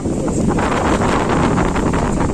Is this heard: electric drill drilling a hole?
no